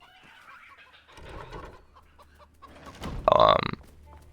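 In the video game Enshrouded, a short burst of loud chicken clucking near the end, after quiet stretches of soft ambient noise and a faint murmur.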